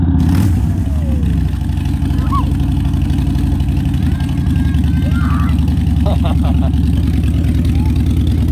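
A Harley Davidson trike conversion carrying three riders runs with a loud, close, steady engine rumble and lumpy idle that holds throughout, with faint voices in the background.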